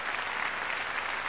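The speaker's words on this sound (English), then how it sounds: "now turning and bowing deeply to the ovation from the audience here in Music Hall" Sustained applause from a concert hall audience at Music Hall greeting a pianist after a Chopin piano concerto with the Cincinnati Symphony, a dense, steady wash of clapping with no voices standing out.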